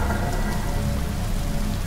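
Heavy, pouring rain drums steadily in a video game called The Shopping List, a dense continuous wash with a low rumble underneath that suggests distant thunder, and no voices.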